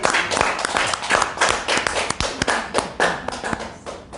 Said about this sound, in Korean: 하나님께 영광의 박수 드립니다